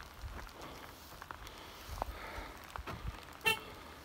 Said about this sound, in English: the car alarm is armed